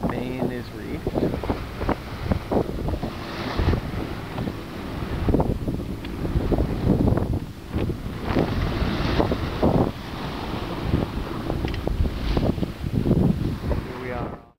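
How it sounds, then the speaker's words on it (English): Wind noise and water wash around a 1957 Hinckley Sou'wester Jr. wooden sailboat with reefed jib and main in a 15 to 20 mph breeze, a steady gusty rush with bumps and slaps throughout. "15, maybe 20 mile an hour breeze from the southwest"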